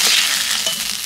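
Prawns frying in hot oil in a village kitchen, a dense steady sizzle with crackling spatter running close and loud throughout, no voices.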